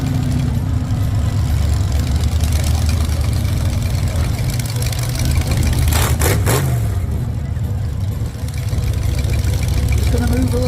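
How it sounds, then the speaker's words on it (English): Monster truck engines roar and rev loudly and continuously in an old-fashioned drag race at a UK truck show, with a brief surge midway. Voices can be heard under the engine noise. "Big Pete versus the Grim Reaper in an old-fashioned drag race."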